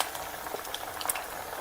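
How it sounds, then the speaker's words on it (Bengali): Sabudana vada, sago pearl fritters, frying in hot oil, a steady close crackle of sizzling with small bubbling pops running throughout, no voices. "এক সাইড করে লাল লাল করে ভাজা হইব, উল্টা পাল্টা করিয়া দিবা।"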